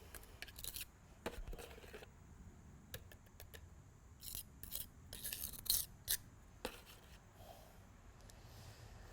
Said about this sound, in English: for the smaller little patch here, I'm just going to use the smaller trowel here, smaller margin trowel